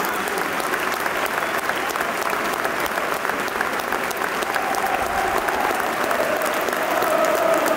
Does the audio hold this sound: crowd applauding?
yes